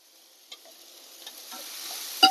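Cooked rice being stirred in a hot pan for Indo-Chinese fried rice, a few soft scrapes and a faint sizzle building to a louder clatter of the spatula near the end.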